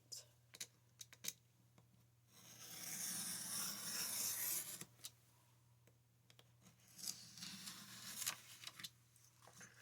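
Scissors slice through a cardboard file folder in one long rasping cut, fairly close and quiet, with a few short snips and rustles of the card before and after.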